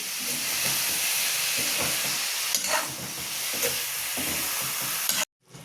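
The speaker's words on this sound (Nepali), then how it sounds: "त्यहाँपछि च्याउलाई एकछिन चलाउनुहोस्।" Mushrooms stirred in a hot pan, with a steady sizzle and hiss broken by repeated scraping strokes of a utensil, ending suddenly in near silence.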